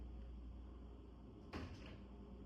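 An interior door pushed shut, a single soft thud-and-click that does not fully latch, heard close against a quiet room hum with no talking.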